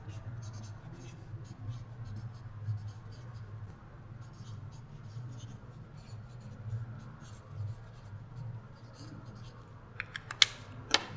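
Pen writing on a stapled paper foldable, a soft continuous scratchy stroking that runs steadily for about eleven seconds over a low room hum, ending with a few brief sharper rustles of the paper.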